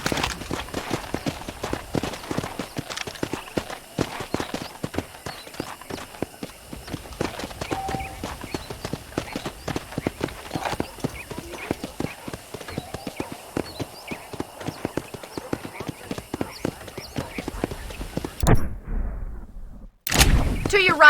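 Horse hooves clip-clop across a ranch in the video game Red Dead Redemption, a steady, close gallop of dense hoofbeats that runs loud and unbroken before cutting off sharply near the end.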